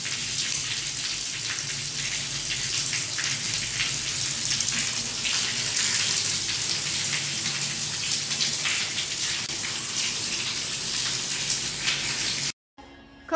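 Water streams steadily from one bottle into another, a continuous splashing, trickling pour that runs loud and unbroken for about twelve seconds before cutting off abruptly.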